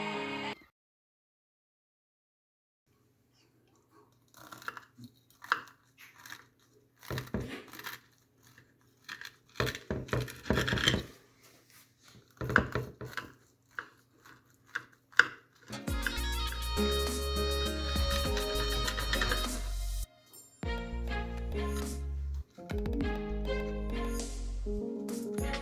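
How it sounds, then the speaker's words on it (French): A knife cuts through crispy Turkish künefe with melted mozzarella, giving scattered close crunches and crackles after a silent start, then music takes over. "Je vous laisse écouter vraiment le croustillant lorsque je vais le découper et la mozzarella comment elle a fondu."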